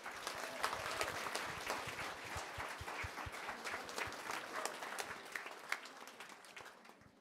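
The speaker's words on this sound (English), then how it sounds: "Another round of applause, please." Sustained applause from an audience at a community awards evening, dense and steady throughout, heard from a distance and fairly faint, tapering off slightly at the close.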